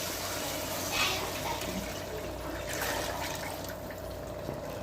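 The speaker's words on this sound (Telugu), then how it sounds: "ఇప్పుడు వాటర్ వేసేయాలి" Water poured into a pot of mutton for biryani makes a continuous, close gushing splash at a steady level, swelling briefly a couple of times, with no talking.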